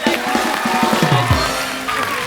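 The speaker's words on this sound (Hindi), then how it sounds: "एक बार साइना के लिए जोरदार तालियां हो जाएं" A television comedy show studio audience cheers and claps for a badminton star guest, a loud mix of crowd shouts and whoops with low voiced bursts, dense and continuous throughout.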